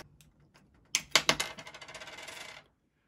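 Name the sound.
old CR2032 battery removed from car smart key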